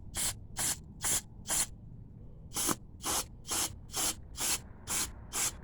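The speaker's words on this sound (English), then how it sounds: "I'm gonna hold it to that hose there. You're gonna see it shoot juice through all those holes." Carburetor cleaner sprays in a series of short bursts through the holes of a 212cc Predator engine carburetor, about eleven close, loud hisses in a steady rhythm with quiet gaps between them.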